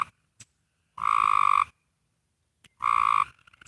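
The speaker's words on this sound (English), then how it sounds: "I'm starting to hear the frogs too, Rosemary." Frogs croaking outdoors in a tranquil nature setting, two distinct loud rasping croaks about two seconds apart, each lasting under a second, with quiet gaps between.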